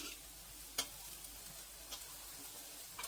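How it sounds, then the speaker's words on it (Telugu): Small pieces of bread frying in a pan for a jaggery double ka meetha sweet, giving a faint, steady sizzle with a few soft clicks and ticks, no talk. "చిన్నగా కట్ చేయడం వల్ల చూడండి ఇలా చిన్నగా చక్కగా వేగుతాయండి"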